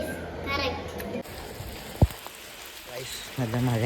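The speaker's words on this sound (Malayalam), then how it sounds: "നല്ല മഴയാ" Heavy rain falls steadily outside a home where family gather to grill chicken, a continuous hiss beneath people and children talking.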